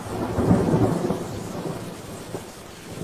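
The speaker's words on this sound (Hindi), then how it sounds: "गंगापुर गांव में अच्छी बारिश हुई है।" Thunder rumbles beneath steady rain in a cartoon storm effect over a village, a loud deep roll early on easing into a continuous wash of rainfall that swells again at the end.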